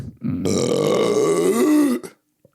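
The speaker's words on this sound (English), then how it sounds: "I'm about to burp." Single long, loud, croaking burp from a man close to the microphone, a drawn-out guttural rasp lasting under two seconds before cutting off into silence.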